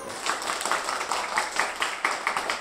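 Audience applause at a circus show: a dense, steady wash of many hands clapping at moderate distance, sustained throughout with a rhythmic pulse to it.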